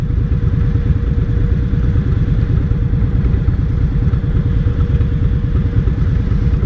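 Indian Scout 60 motorcycle riding, its engine running steadily and loudly up close with a continuous low rumble and throbbing rhythm, no voices heard.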